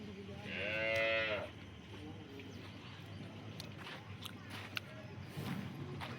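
A cow gives one loud, drawn-out moo close by, followed by quieter farmyard sounds, a few faint knocks and low background noise.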